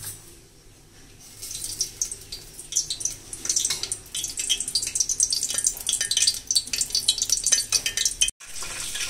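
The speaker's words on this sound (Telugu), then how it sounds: "ఆయిల్ పోసుకొని పోపు జీలకర్ర, ఆవాలు, కరివేపాకు" Cumin, mustard seeds and curry leaves hit hot oil in a pot for a tempering, giving a dense, crackling, spattering sizzle that builds after a quiet start and keeps popping steadily, close by, with no talking.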